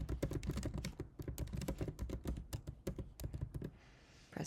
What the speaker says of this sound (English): basically what you're going to do is type in the search bar here